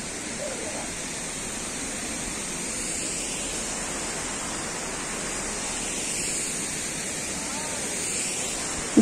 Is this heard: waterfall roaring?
yes